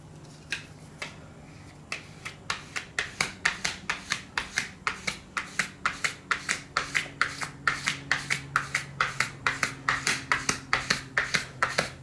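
Rhythmic, evenly spaced squeaky swipes of a squeegee pushing soapy water out from under a PEI sticker on a 235 by 235 spring steel plate, a close, repeated rubbing stroke that speeds up and continues steadily without speech.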